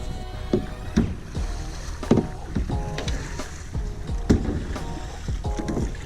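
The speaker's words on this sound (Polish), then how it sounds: "Dzisiaj łódkę napędzamy siłą własnych mięśni, wiosłami" Oars dip and pull through water in an uneven rhythm as a motorless fishing boat is rowed, with wooden knocks and splashes close by against a steady outdoor wind hiss.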